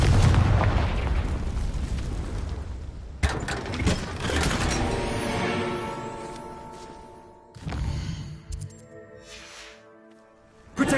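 A Confringo blasting spell goes off in Hogwarts Legacy, a loud booming explosion with rumbling debris that fades, then a second burst of crashing impacts and a sudden hit at the end.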